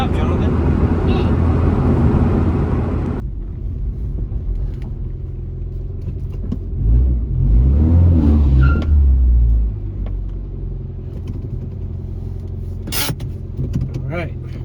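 A car engine with newly installed headers and exhaust idles with a deep steady rumble, then revs up into a louder throaty surge before settling back to idle, with voices talking over it.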